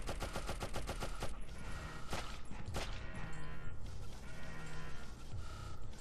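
Rapid, loud gunshots fire at sligs in the video game Oddworld: Abe's Oddysee, with a quick string of shots at first, then scattered blasts and clanks over a busy game soundscape.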